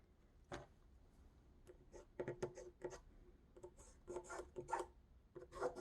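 A pencil draws a center line along a plain ruler laid diagonally across quilt fabric, giving quiet scratchy strokes and light taps in short irregular bursts, close by.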